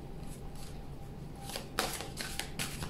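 Tarot cards are shuffled and drawn by hand: faint, soft riffling and flicking close by, with a few short card snaps near the end over quiet room noise.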